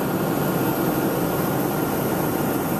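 Aircraft auxiliary power unit running at an airport, a steady, dense turbine roar and whine with a constant high tone, loud and unchanging throughout with no voices.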